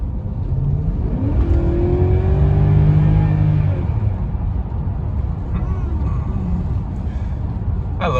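A Mercedes E420 V8 with a swapped factory LH module revs hard under acceleration, a loud rising engine roar that swells over a few seconds, then eases off into a steady drone, with no talking.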